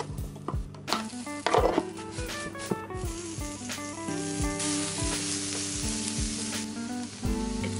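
Food with oil sizzles on a George Foreman grill, a close, continuous crackling hiss with a few brief clacks and clatters near the start and a steady tone running underneath.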